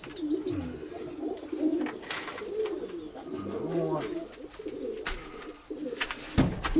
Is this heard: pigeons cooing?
yes